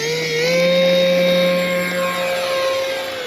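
The electric motor of an Avios Albatros V2 RC model plane runs at a steady high-pitched whine, loud and close, rising slightly in pitch early on and holding a sustained tone without speech.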